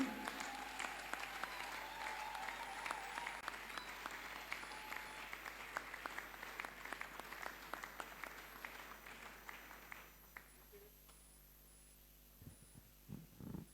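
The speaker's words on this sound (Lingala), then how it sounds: "Est-ce qu'on peut acclamer?" An audience claps in a dense, continuous round of applause that runs for about ten seconds, then thins out and fades into scattered, softer claps near the end.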